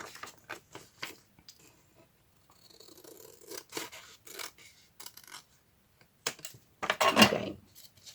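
Scissors cutting out a strip of craft paper: a series of short, crisp snips and rasping paper slides in quick bursts, close and fairly quiet, with a louder rustle near the end and no talk.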